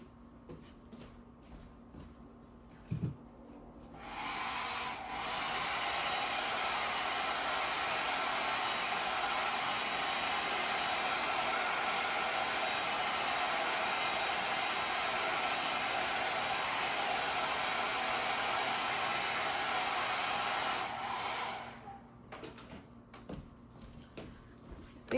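A hair dryer runs steadily for about seventeen seconds, loud and close, drying wet watercolor paint on paper; it starts abruptly, holds a constant broadband roar, then cuts off, with faint handling sounds before and after.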